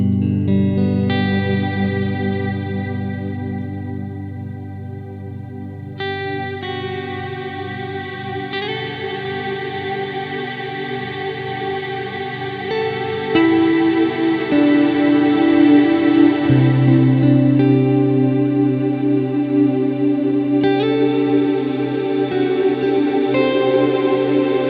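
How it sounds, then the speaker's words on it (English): Electric guitar chords run through a Strymon Big Sky reverb pedal held into infinite sustain, layering into a dense, swelling wash of shimmering tones that builds and thickens for about twenty-five seconds without any voice. "when you're holding it down, you can sort of get this infinite reverb that you layer up and layer up and layer up."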